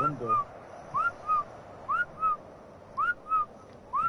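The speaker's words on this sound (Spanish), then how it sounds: "¿Quién chifla así?" Someone whistling a short two-note phrase over and over, a quick rising note followed by a falling one, repeated several times in even bursts against a quiet background.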